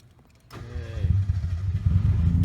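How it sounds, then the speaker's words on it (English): A Mazda Miata engine cranks briefly and catches, then settles into a close, steady low idle that grows a little louder, with no talking. "Put the clutch in, turn the car back on."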